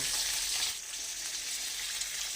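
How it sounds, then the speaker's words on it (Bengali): Katla fish fillets frying in hot oil, a steady broadband sizzle that stays close and continuous, dipping briefly partway through, with no voices. "ওই গরম তেলের মধ্যে আমি মাছগুলোকে একটা একটা করে দিয়ে ভেজে নেব মাছগুলো ভাজছি"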